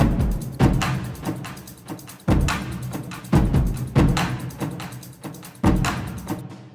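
War drums layered with low kick drums in a cinematic track build up a loud, booming pattern of heavy hits roughly every second, with deep low end and ringing tails, and no voices.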